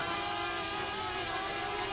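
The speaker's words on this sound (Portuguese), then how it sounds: "Olha o drone, drone chegando." A steady, continuous motor whir with a buzzing high-pitched drone from a drone flying overhead above the Serra do Rio do Rastro, holding an even loudness throughout with no talking.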